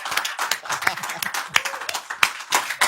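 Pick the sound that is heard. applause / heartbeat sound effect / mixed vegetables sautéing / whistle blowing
applause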